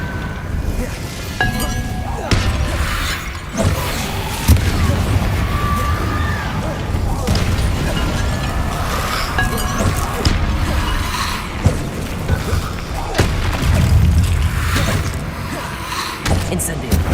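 Confringo spell blasts in Hogwarts Legacy ring out as a run of loud booming bursts with glassy clinks and debris. The bursts recur through a busy, continuous battle soundscape, with voices murmuring underneath.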